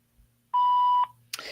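A single voicemail beep sounds as a clean, steady electronic tone lasting about half a second, loud and isolated against near silence.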